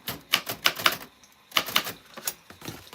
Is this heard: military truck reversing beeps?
no